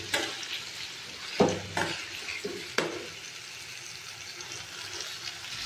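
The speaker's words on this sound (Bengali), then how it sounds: "তিন মিনিট মতো নাড়াচাড়া করবো" Chicken coated in ginger-garlic paste being stirred in a pan of oil, with a few sharp scraping knocks early on and then a steady soft sizzle throughout, close and moderately loud, with no talking.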